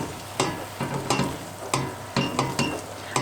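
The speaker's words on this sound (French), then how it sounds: "Je mélange." Flour being stirred into a soup thickened with 50 g of flour in a pot, with a series of distinct scraping strokes at a steady rhythm against a faint background of cooking noise, close and moderately loud.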